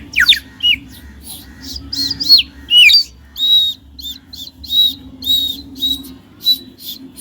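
A person imitating a sparrow, giving a series of short, high, squeaky chirps in uneven bursts with pauses between them, close and fairly loud over a low background hum.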